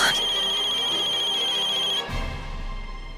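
A telephone ringtone rings on, loud and steady with a sustained electronic tone, then cuts off partway through as the line goes quiet apart from low background sound.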